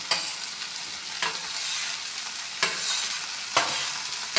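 Fish pieces and green chillies frying with softened tomato in a pan give a steady close sizzle, with four sharp scrape-and-stir bursts spread through it and no voices.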